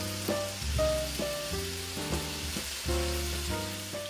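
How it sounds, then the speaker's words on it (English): Turkey burgers fry in olive oil in a preheated skillet over medium-high heat, giving a steady close sizzle with scattered pops and a few faint clinks, and no voices. "I cooked my burgers on both sides until they were nice and golden brown"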